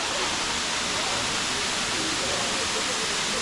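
Killiyur waterfall in Yercaud pours in a steady, loud, close roar of rushing water that fills the whole clip without a break.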